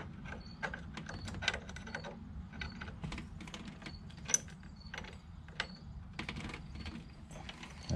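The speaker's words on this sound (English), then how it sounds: "Gonna hold this with a half inch and tighten this up with a 9/16." Ratcheting clicks and metallic taps from a 9/16 wrench tightening a bolt on a motorcycle primary cover, with a half-inch wrench holding the other side; quick irregular clicks, close and fairly quiet, alone.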